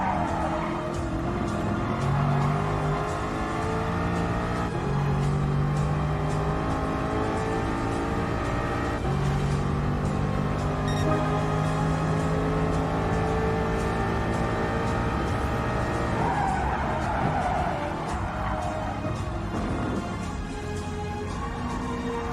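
An Aston Martin V8 Vantage driven on a test track, its engine holding a steady loud drone with gear changes and rising revs, continuous and close from inside the car.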